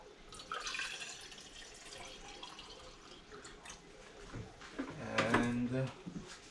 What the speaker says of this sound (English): I pour some more water.